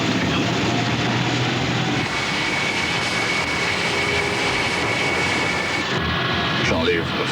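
Loud, steady roar of a four-engine airliner's jet engines building for takeoff in a broadband wash, with a low hum underneath and voices briefly audible near the end.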